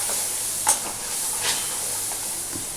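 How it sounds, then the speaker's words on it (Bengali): Soyabean kofta masala with coriander and cumin powder being stirred in a pan over a faint steady sizzle, with a few soft scraping strokes and one sharper clink, no talking. "এটাকে একটু ভালো করে নাড়াচাড়া করব।"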